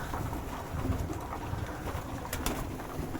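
Pigeons coo in low, soft, throaty tones close by, with a steady rushing background noise.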